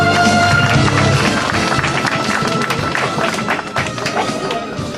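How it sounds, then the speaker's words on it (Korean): An audience at a campaign office opening ceremony in Anyang breaks into dense, continuous applause that fills the whole stretch, with crowd murmur mixed in and the clapping thinning slightly toward the end. "박수 부탁드립니다"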